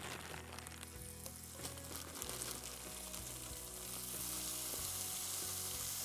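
Bacon fries in melted butter in a pan at a backcountry camp, a soft sizzle with some clattering handling early on that settles into a steadier, slightly louder hiss.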